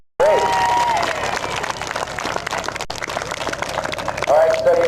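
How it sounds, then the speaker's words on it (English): A group of Cub Scouts at a day camp applauds themselves, a loud, close burst of clapping mixed with cheering and lively young voices, with a whistle-like tone rising near the start and end. "Give yourselves a round of applause"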